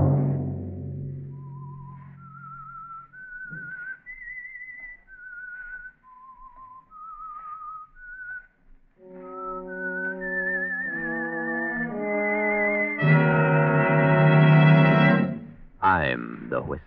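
Signature whistled melody of the old-time radio show The Whistler, a lone eerie tune of wavering notes that gives way to a swelling orchestral chord and brief voice, heard clearly and up front.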